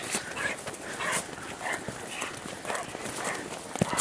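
Hunting dogs bark and whimper in rough scattered bursts during a wild boar hunt in El Bierzo, with people talking in the open air around them.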